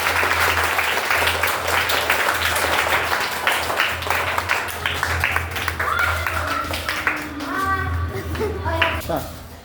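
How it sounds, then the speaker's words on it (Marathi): Steady, dense applause from a classroom of fifth-grade schoolchildren fills the whole stretch, with children's voices calling out over the clapping toward the end. "सगळ्यांनी टाळ्या वाजायच्या जोरदार."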